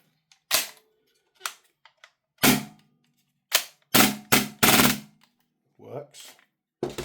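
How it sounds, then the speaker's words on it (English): An airsoft gun fires in sharp, close cracks, first singly with pauses and then in a quick cluster, with an MP9 magazine inserted until the bolt locks back on empty. Brief voice sounds follow the shots. "MP9 mag goes in, locks back on empty."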